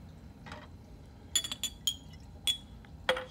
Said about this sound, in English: Now I'm going to quickly remove the flask and then pour the lime water into it.